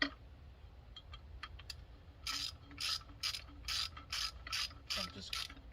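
A ratchet wrench tightens a T50 Torx bolt on a motorcycle horn mount, giving a series of quick, close metallic clicking bursts in an even rhythm after a few softer ticks, with no talk.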